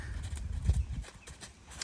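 A big horse's hooves clip-clop in a steady, close rhythm of dull thuds.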